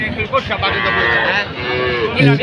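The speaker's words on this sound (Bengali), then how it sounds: "এই দেখতে পাচ্ছেন এখানে একই সারিতে রয়েছে বিভিন্ন জাতের ষাঁড় গরু" Bulls of several breeds at a busy village cattle market low and moo loudly and close, a drawn-out bellow filling the clip over crowd murmur and faint voices.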